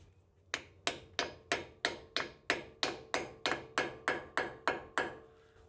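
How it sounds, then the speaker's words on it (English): A rubber hammer taps a metal wheel bearing dust cap on a Toyota Land Cruiser 100 Series about a dozen times in a steady, even rhythm, each blow a sharp close knock fading quickly. "just tap that into place using the brass or a rubber hammer"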